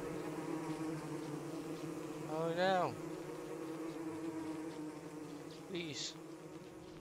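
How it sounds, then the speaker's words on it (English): Steady buzzing of bees in the video game Don't Starve hums throughout, with two brief bursts of voice rising over it. "Oh, the bees."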